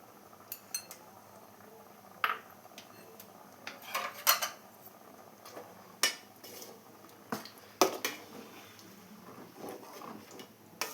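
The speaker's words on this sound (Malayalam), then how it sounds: "ഇതെല്ലാം കൂടെ ഒന്ന് മിക്സ് ചെയ്ത് കൊടുത്തിട്ടുണ്ട്" A pot of Kerala-style milk tapioca is stirred after first coconut milk is poured in, giving scattered clinks and scrapes of a utensil against the pot, some sharper knocks among quieter scraping.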